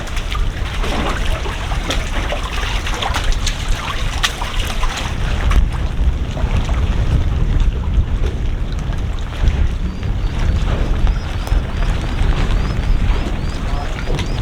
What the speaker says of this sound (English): A little windy out here. A little bit of wind.